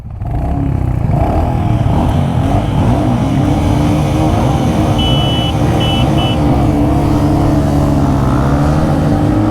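A Royal Enfield Hunter 350 motorcycle accelerates hard in a performance test, its loud engine roar sustained and rising steadily, close and continuous with no speech.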